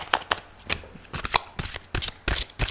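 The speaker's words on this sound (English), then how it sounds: "So I also decided to incorporate the shuffling into the reading" Tarot cards being shuffled by hand during a reading, a run of crisp riffling and slapping bursts repeating in an irregular rhythm, close and fairly loud with no talking.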